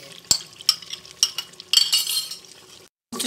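Mutton shank for nalli nihari browning in a pan with turmeric, fennel powder and yogurt, a spoon stirring it in a few clinking, scraping strokes over a soft sizzle before a sudden brief silence.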